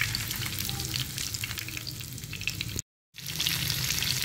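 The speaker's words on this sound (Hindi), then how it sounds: "फिश का ये पीस अच्छे से फ्राई हो गया है" Fish pieces coated in gram flour fry in hot oil, giving a steady, dense, close sizzle that runs throughout, broken only by a brief cut of silence.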